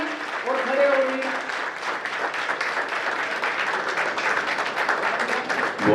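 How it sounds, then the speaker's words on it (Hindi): A crowd at a gathering in Aggarwal Bhawan applauds the arrival of Rao Inderjit Singh, a dense, sustained wash of many hands clapping at once, loud and continuous, with a voice briefly heard near the start. "सभी उनसे तालियों से स्वागत करेंगे और खड़े होंगे"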